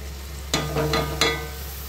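Rice and raisins frying in hot oil for chicken polao, a soft close sizzle with two or three quick stirring scrapes and clinks over a short stretch, with no voices.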